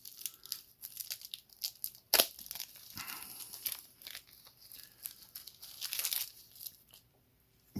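Thin plastic protective film crinkles and tears as it is peeled off a watch with a domed sapphire crystal and teal dial, close and fairly quiet, in short irregular bursts with a sharper rip partway through.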